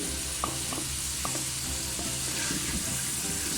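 Masala with yogurt frying in a pan for a beef and vegetable dish, a loud continuous sizzle with periodic spoon taps and stirring scrapes, no speech.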